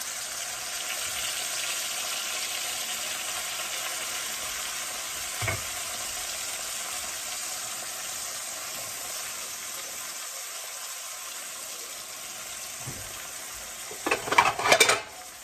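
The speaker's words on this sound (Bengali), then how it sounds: "কুমড়ার বিচি আর এখানে সিমের বিচি কটা ভাজ্যা নিছি" Pumpkin seeds and bean seeds dry-frying in a pan on a rainy day, a steady soft sizzle throughout with a few scrapes of stirring, rising into a brief louder burst of stirring near the end.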